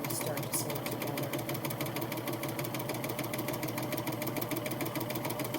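A Baby Lock Admire Air 7000 machine with a strap and belt loop foot sews a long fabric strap, giving a steady, rapid mechanical stitching whir that runs evenly throughout beneath a person talking.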